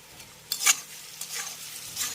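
Vegetables stir-fried with ground cumin, ginger and chilli paste, a few quick scraping stirs with bursts of sizzle over a quiet background, close by.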